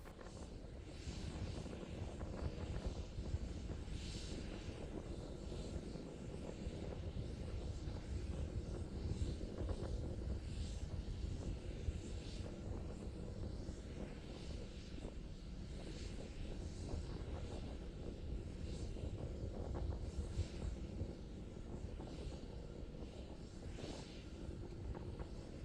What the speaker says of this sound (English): continuing to climb on power of 2 engines.